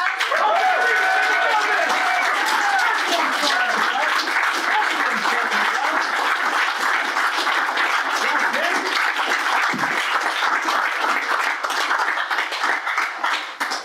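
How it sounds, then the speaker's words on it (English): Crowd at a political party mixer claps hard and continuously for over ten seconds, a thick sustained burst of applause with some voices and whoops mixed in. "Can I get a good clap?"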